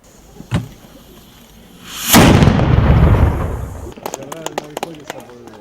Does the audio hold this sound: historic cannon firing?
yes